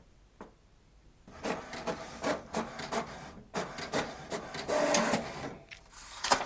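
An HP DeskJet 2827e printer starts up and feeds a page, giving a close whirring, rubbing mechanical run. The motor bursts and shuttle passes are uneven, with a higher whine near the end and no voice.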